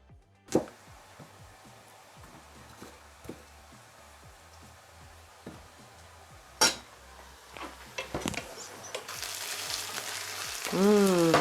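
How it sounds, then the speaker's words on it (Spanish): A medium chopped onion fries in a pan for Austrian bread dumplings (Knödel), with scattered close clicks and taps of a utensil and a hiss that swells into louder sizzling toward the end. "esto lo vamos a sofreír para nuestras albóndigas de pan"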